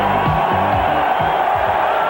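Crowd cheering fills a stadium at a 1986 Monday night Bears vs. Lions football game in Detroit, a loud steady roar with whoops rising throughout.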